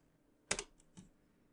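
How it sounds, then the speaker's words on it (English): A few quiet clicks of a computer keyboard being typed on, two soft keystrokes close together and a lighter one after, alone in a silent room. "So I'll type in npm install express"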